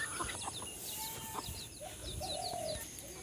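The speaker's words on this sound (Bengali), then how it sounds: "এই যে সকালবেলায় মুরগিগুলো ছেড়ে দিয়ে দিয়েছি" Chickens let out in the morning cluck and call at a middle distance over quiet outdoor ambience, with several short bird calls scattered across a few seconds.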